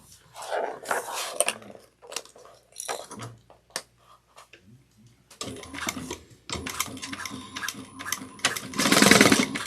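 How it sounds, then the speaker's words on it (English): A sewing machine stitches down a clear plastic bag in close, uneven bursts of whirring and clatter with brief pauses between them, growing louder and denser toward the end. "Okay, we're going to do some sewing it down again."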